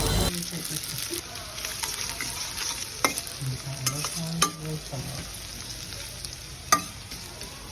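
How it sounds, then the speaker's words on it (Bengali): Chopped onions fry in hot oil in a pan, a steady close sizzle broken by frequent scraping and clinking of a spatula as they are stirred, with no one speaking. "এখন একটু লাল লাল করে ভেজে নিচ্ছি"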